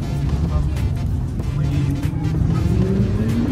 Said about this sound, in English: we got a Senna leaving right now